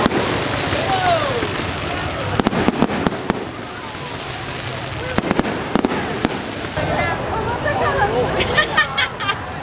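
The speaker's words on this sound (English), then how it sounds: "That was the loudest firework show I think I've ever seen." Fireworks crackle and pop in clusters, with sharp bangs standing out over a lively crowd murmuring nearby, at the lantern festival in Chiang Mai, Thailand.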